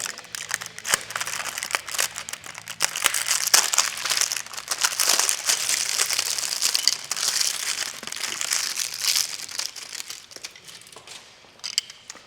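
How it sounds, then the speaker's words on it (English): Bike pedals for a Higgs step-thru electric bike pulled from their packaging, giving close, busy crinkling and crumpling of plastic and paper with sharp crackles throughout, no talk. "And then we can just take the pedals out of the packaging."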